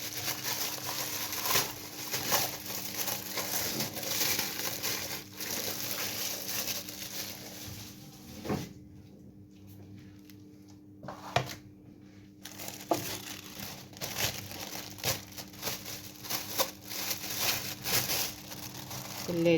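Plastic bags crinkle and rustle as large pieces of fish are packed into big bags at home, a steady busy crackle of handling with brief quieter stretches and faint background hum.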